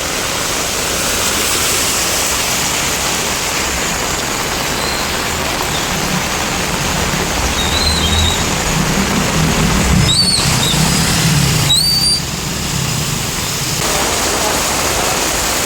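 Heavy monsoon rain pours down in Nalasopara, Mumbai, a steady loud broadband roar of water on surfaces lasting throughout, with a couple of faint brief tonal chirps partway through.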